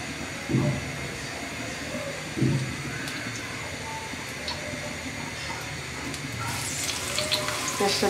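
Onion fries in hot oil for an egg bhuna, giving a steady, even sizzle and crackle that continues throughout, with a few soft knocks and a brighter burst of frying late on.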